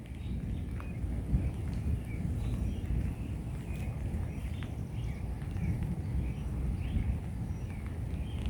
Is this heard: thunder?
yes